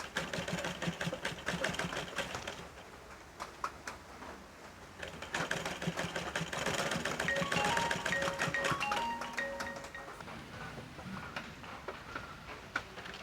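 A sewing machine stitches along the edge of folded fabric in a home sewing lesson, running in steady motor bursts with a short pause between runs and rapid needle clatter throughout.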